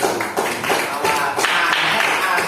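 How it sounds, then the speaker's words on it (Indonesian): A classroom of children claps together in a brief, busy burst of overlapping hand claps, close and fairly loud, with voices mixed in. "tepuk tangan buat Mbak Feby"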